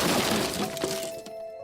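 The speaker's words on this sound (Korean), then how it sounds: "어차피 버리는 가구들이었기에 빠루나 해머를 들고 박살을 냈어" Discarded household furniture is smashed apart with a crowbar or hammer in a radio drama effect, a dense, close crash of splintering and shattering debris that trails off into scattered clatter.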